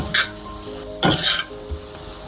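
Shredded coconut being stirred and cooked in a pan, heard as two scraping, rustling stirs against a faint background sizzle, close and with no talk.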